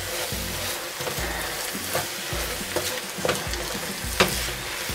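Tomato paste being stirred into nasi goreng, Indonesian fried rice, frying in a pan: a continuous sizzle broken by repeated spatula scrapes and knocks at an uneven rhythm, close and without talk.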